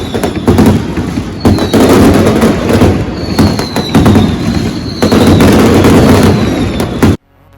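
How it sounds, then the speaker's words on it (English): Mascletà fireworks at the Benidorm fire fiestas go off at lunchtime as a loud, dense barrage of rapid firecracker bangs and booming bursts in several surges, stopping abruptly near the end. "were here to see the fabulous Mascleta fireworks at lunchtime as part of the fire fiestas in March"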